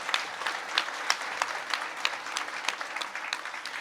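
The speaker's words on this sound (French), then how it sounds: "on peut l'applaudir, bien sûr" Audience at a French literary reading applauds, a steady patter of many hands clapping for a few seconds, close and lively with no voices over it.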